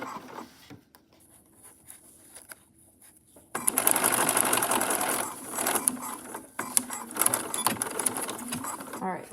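A sewing machine stitches around the armhole of a summer dress, running in a fast close whirr after a quiet start, with brief stops and restarts.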